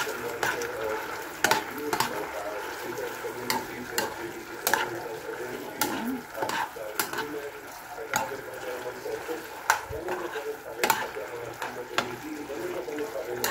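Spicy chicken in a pineapple juice sauce is stirred in a hot pan, giving a steady close sizzle with scraping stir strokes and occasional sharp clicks throughout.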